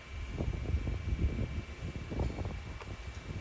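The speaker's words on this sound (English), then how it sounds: "the wind is like really throwing me off here" Wind buffets a microphone outdoors at a river park during a tiny whoop drone flying session, producing steady low rumbling gusts that rise and fall, loud and close, with no speech.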